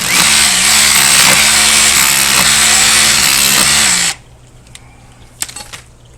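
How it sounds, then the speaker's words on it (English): A loud rotary hammer digging down into ground for a patio build roars steadily for about four seconds, then cuts out, leaving quiet background with a few faint knocks. "Rotor hammer it down and pull."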